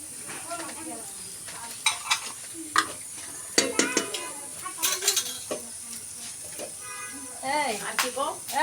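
Chicken, potatoes and pointed gourd fry in a pan, making a soft sizzle broken by repeated scrapes and clinks of a spatula against the metal, while a person talks over the cooking.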